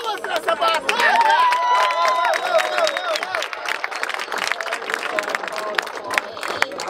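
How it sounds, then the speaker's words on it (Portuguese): A crowd claps and cheers for a rap battle at a hip hop tour semifinal in Piracicaba, a dense, loud burst of applause with shouts and chatter mixed in, a voice briefly rising over it early on. "Palmas pra essa batalha!"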